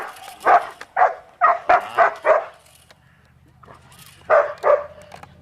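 Dog barking during a bite-work protection demonstration at a Swiss championship outdoors: a run of five loud, evenly spaced barks, a pause with low background hum, then two more barks close by.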